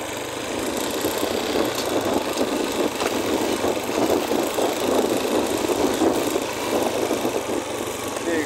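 A motorcycle rides along a rough track toward a river, its engine a steady mid-pitched drone with rattling, uneven road noise throughout.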